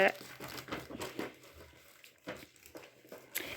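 Packaging crinkles close up while saree orders are packed, with irregular rustles and crackles mixed with nearby voices talking.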